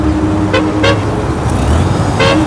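A car horn beeps outdoors on a street, three short toots spaced apart, fairly loud and near over a constant traffic rumble with no talking.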